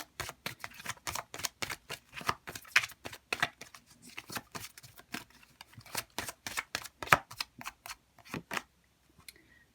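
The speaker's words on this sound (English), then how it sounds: "let's see if we can get a final oracle card for you" Oracle cards being shuffled by hand in a steady run of crisp riffling flicks and slaps, fairly close and alone, trailing off near the end.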